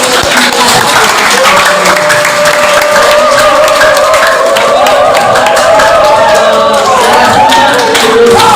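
Sustained audience applause at a school environmental project event at MA Al-Ishlah Jamanis, dense and steady clapping filling the whole stretch with crowd noise, loud and continuous throughout.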